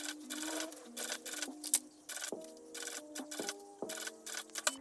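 A sewing machine stitches bias binding onto fabric in short, quick bursts of rapid mechanical chatter, stopping and restarting several times, close and clear with no talking.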